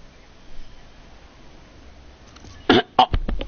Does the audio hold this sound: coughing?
yes